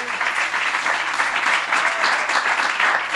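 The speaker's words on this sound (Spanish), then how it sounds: "denle un fuerte aplauso al Señor" A church congregation at a youth camp service gives loud, sustained applause, dense and continuous clapping filling the room without pause.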